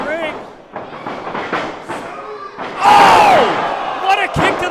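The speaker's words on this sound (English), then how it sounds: "What a kick to the face." A wrestler's kick to the face in a wrestling match lands as a loud slam amid an excited crowd roar, with a commentator talking excitedly over the impact and cheering throughout.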